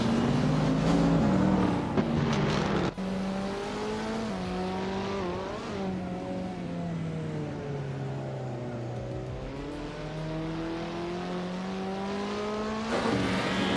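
A 1984 Ferrari 288 GTO and other racing cars in a race, with a steady loud engine drone whose pitch rises and falls through gear changes, a sharp cut near three seconds, then sustained high revving to the end.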